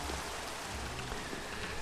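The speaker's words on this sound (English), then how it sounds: "Alright, just as it starts raining." Steady rain begins falling in a Minecraft survival world, a soft continuous hiss of drops spread evenly throughout, with no voices over it.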